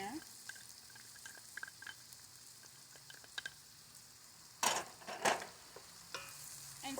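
Chopped onions go into a pan with toasted cumin seeds for a Guyanese channa and fry with a soft, steady sizzle, punctuated by a couple of louder stirring scrapes and clatters near the end.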